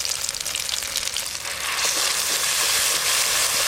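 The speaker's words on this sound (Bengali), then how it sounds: "মশলা তো ভালো করে কষানো হয়ে গেল।" Spice paste of mustard, poppy seed and cumin with chilli and turmeric sautéing in mustard oil with black cumin, giving a dense, continuous close sizzle that grows slightly louder toward the end, with no voices.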